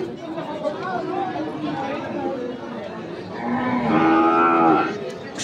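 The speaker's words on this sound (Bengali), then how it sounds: "আর এখানে একটি গরু দেখছি আমরা, আলম ভাই গরুটি দেখছেন" At a busy weekly cattle market, a cow lets out a loud, drawn-out moo near the end while crowd chatter and people talking carry on throughout.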